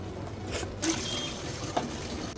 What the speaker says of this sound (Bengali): ডালটা এখন এটার মধ্যে ঢেলে দিলাম